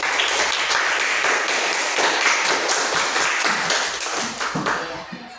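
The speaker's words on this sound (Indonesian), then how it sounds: "tepuk tangan untuk teman kita" Primary school pupils in a classroom applaud a classmate with a steady, dense patter of many hands clapping that fills the room, holding for several seconds before thinning out near the end.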